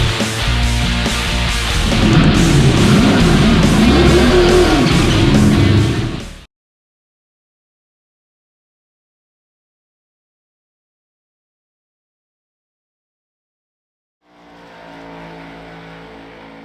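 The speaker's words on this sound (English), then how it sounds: "Drivers, start your engines!" NASCAR Next Gen race car engines in iRacing at Daytona International Speedway roar loudly for about six seconds, then cut to silence before a quieter engine drone returns near the end.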